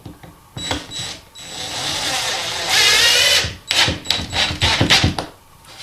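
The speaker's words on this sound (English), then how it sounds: "And then take your screw, drywall screw, and you screw it in." A power drill drives a drywall screw into a wall panel during a hole repair, with close, loud bursts of whirring around the middle and choppy mechanical noise on either side.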